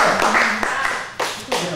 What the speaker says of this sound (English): applause just for me saying their names